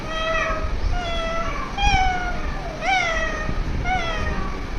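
A young schoolchild mimics a cat, voicing about five drawn-out meows one after another at a steady pace, close and clear, with no talking around them.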